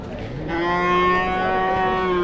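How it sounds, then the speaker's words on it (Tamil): A bull at the Uthangarai cattle market lets out a long, loud, low moo with a strong tonal drone that swells and holds for about two seconds. "இது பார்த்தீங்கன்னா ஒரு ஜோடி ஏறு மாடுங்க"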